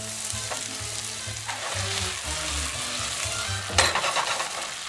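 Food sizzles and fries steadily in a pan, a continuous crackling hiss with stirring and a sharper clatter near the end, close and alone with no talk.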